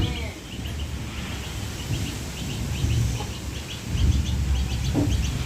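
Several chickens cluck and call in short bursts while getting wet in wind-driven rain, over a steady background of wind and rain, with occasional murmured voices nearby.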